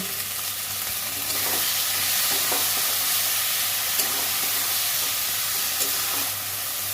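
Prawns sizzle and fry steadily in a hot pan with oil, a continuous bright crackling hiss with occasional soft stirring scrapes.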